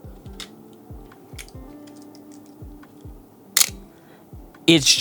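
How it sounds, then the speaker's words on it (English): Two crisp shutter clicks from a Canon AE-1 film camera ring out close by, one midway and one at the end, over low rhythmic thumps and faint room noise. "if you hear the sounds of the shutter, it's just"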